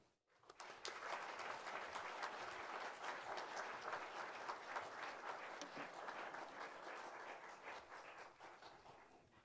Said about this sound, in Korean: 우리 목사님 나오실 때 크게 박수로 환영했으면 좋겠습니다